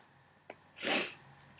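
A person with a cold gives a short intake of breath, then one loud, close sneeze lasting a fraction of a second, followed by quiet room noise.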